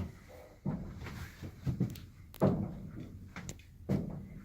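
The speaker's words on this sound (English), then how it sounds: "try to close the door now." A wrought iron door that catches on its frame at the top and bottom is swung shut, giving a few quiet dull knocks and short scraping rubs spaced a second or so apart.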